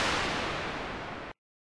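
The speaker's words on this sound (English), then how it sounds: "This is the sound of a white noise." White noise from the noise generator of the Thor synthesizer in Reason: a steady, full-band hiss holding at even level for about 1.3 seconds, then cutting off abruptly into silence.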